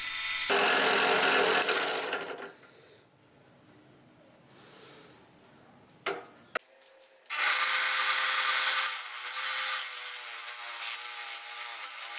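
A drum sander on a 13mm drill press grinds loudly against wood in two long harsh bursts, separated by a quieter stretch of low whirring.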